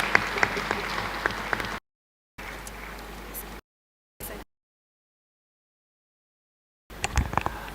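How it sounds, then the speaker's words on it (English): Audience applause for panelists and the chair at a maternal and child health conference, a steady patter of clapping heard in broken stretches separated by silent gaps. "Another round of applause for panelists and the chair."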